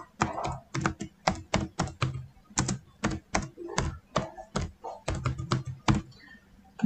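Typing on a computer keyboard while entering text into an Excel spreadsheet, close and fairly quiet, with quick clusters of distinct key taps separated by short pauses.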